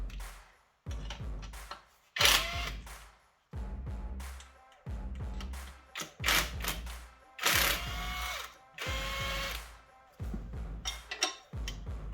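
Bursts of ratcheting and metallic tool clicks come from bolts and nuts being undone on the fuel filter housing of a Citroën C5 X7 2.0 HDi 163 RHH diesel engine during teardown, repeating in short uneven spurts with brief pauses.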